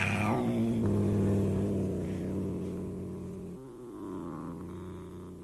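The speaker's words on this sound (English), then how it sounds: "the gentle, oh so comforting purr of her sleek," A sleek, fat cat purrs close by with a low, rumbling, continuous drone that slowly fades and softens toward the end.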